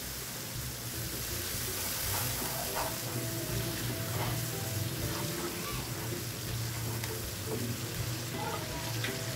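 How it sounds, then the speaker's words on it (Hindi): Chicken tikka karahi sizzles and fries in a pan, a steady broadband hiss with occasional stirring scrapes, close and continuous throughout. "अब इसको 2 मिनट भूनेंगे इसी तरह से।"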